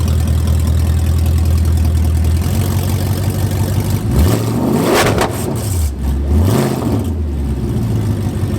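A Mercedes C63 AMG fitted with long tube headers idles with a deep rumble, then blips its throttle twice in sharp, loud revs that rise and fall back to idle, heard up close with no voices.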